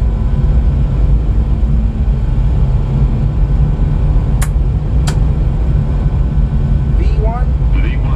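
Boeing 737-800 engines run at takeoff power in a flight simulator, making a loud, steady, broadband roar throughout, with a couple of brief sharp clicks and a short rising chirp toward the end.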